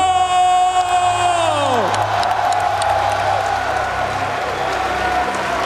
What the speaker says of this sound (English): Listen to the crowd in here.